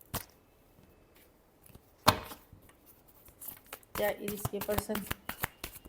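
Tarot cards are shuffled in soft riffling bursts, with one sharp clatter early and a busy flurry of snapping card sounds near the end, while someone talks between them.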